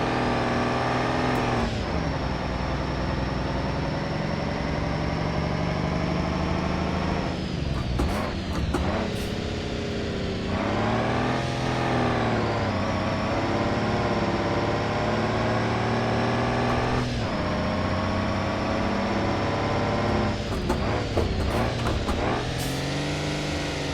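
Car engine screaming at very high revs in the BeamNG.drive driving simulator, a loud sustained whine that keeps rising and dropping with gear changes and throttle cuts, with no talk over it.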